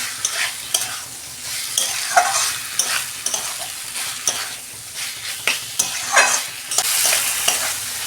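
Mixed vegetables and a hilsa fish head sizzle in a pan while a spatula stirs them, producing scraping strokes in an uneven rhythm over a steady close frying hiss, with no talking.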